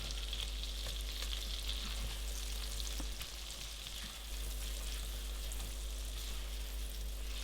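Red onion leaves frying in butter and oil in a pan for corned beef hash, a steady close sizzle with soft crackles and occasional stirring scrapes, with a low hum beneath and no talking.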